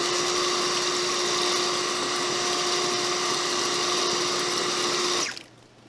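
A hose mounted on the arm of a Proton Pack sprays water in a loud, steady hiss with a pump whine underneath, running unbroken for about five seconds before cutting off abruptly.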